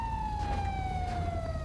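Police car siren in Grand Theft Auto V with the LSPDFR mod, a steady, slowly falling wail sounding continuously and fairly close, with no talk.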